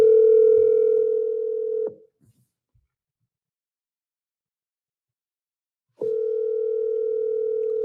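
A telephone ringback tone while calling a property seller: a loud, steady tone of about two seconds, a four-second silence, then the tone starting again.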